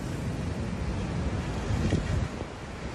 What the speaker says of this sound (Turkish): Hatay'ın İskenderun ilçesinde şiddetli rüzgar nedeniyle deniz taştı.